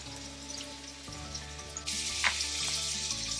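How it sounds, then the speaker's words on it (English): A steak frying in a pan sizzles steadily and fairly close, a dense hiss that grows brighter partway through, with a faint low hum and a few small pops over it. "the steak is currently frying"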